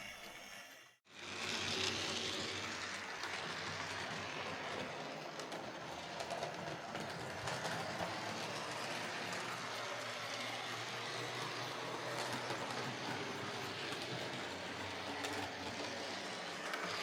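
Serviced B12 model locomotive fitted with an XL3 motor runs steadily and fairly loudly throughout, a somewhat rough, clunky mechanical whir with a brief dropout near the start.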